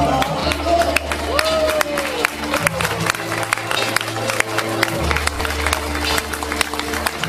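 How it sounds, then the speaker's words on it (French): An audience applauds at the Carvin 2017 fashion show parade, dense clapping and crowd noise running throughout over music, with a voice briefly heard amid the sound. "Sous le tonnerre de l'applaudissement"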